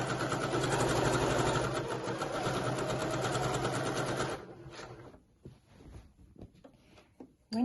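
Sewing machine running a steady, continuous stitch along the double-folded top edge of a skirt, close and fairly loud, then stopping abruptly about halfway through, leaving only faint handling sounds.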